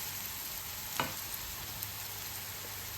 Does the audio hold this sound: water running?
no